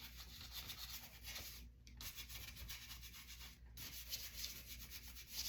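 A dry paintbrush scrubs paint onto paper with a soft, continuous rasping rub, quiet and close, broken by two brief pauses, with no talking.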